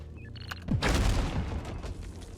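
Satchel charge detonation in the game Deep Rock Galactic: after a few faint beeps, a single heavy boom lands near a second in, then rolls into a long, loud rumble with crackling debris.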